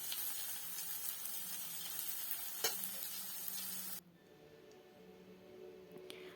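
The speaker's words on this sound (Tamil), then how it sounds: "வாணலியில் தேவையான அளவு எண்ணெய், கடலைப்பருப்பு, ஜீரகம், கருவேப்பிலை போட்டு அதோட சின்ன வெங்காயம், வரமிளகாய் போட்டு நல்லா வந்து வதக்கிக்கணும்" Small onions, chana dal, cumin, curry leaves and dried red chillies sizzle in oil in a pan while being stirred, a steady close frying hiss that cuts off sharply partway through, leaving a quieter background.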